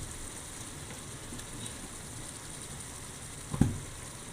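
Fish frying in a pan of mustard sauce, giving a steady close sizzle and crackle throughout, with one brief louder spatter or knock near the end.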